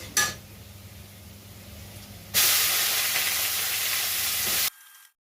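Sliced cabbage and potatoes dropped into hot oil after browned onions, a sudden loud close hiss of frying that holds steadily for a couple of seconds, then cuts off.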